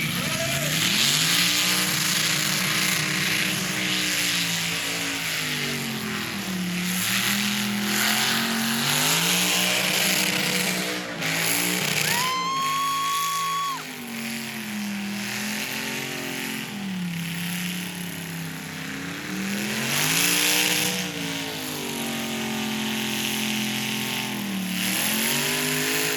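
A 2001 Ford Crown Victoria with zoomie exhaust pipes out the hood revs hard during a burnout competition, its engine surging and falling in repeated loud waves, while voices talk over it.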